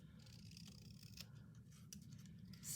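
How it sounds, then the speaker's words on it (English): Scissors snip through an index card during a craft project, with a few crisp cuts heard over a steady low background hum, close and fairly quiet. "I'm gonna do it with my scissors"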